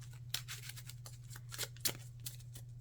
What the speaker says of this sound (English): but I shuffle